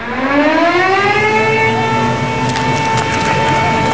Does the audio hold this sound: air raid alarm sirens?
yes